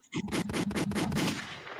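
Rapid bursts of video game gunfire fire off in a dense, loud volley, shots blurring together like automatic weapons before trailing off.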